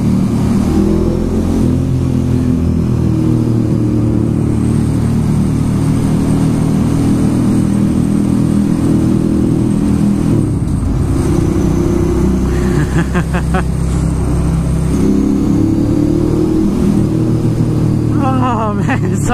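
Ducati Monster motorcycle engine droning steadily while riding from Brooklyn to Manhattan, loud and continuous with rising and falling revs through the whole stretch.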